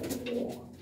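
Pigeons kept by a fancier in Ludhiana give a brief, soft, throaty coo, close by and alone.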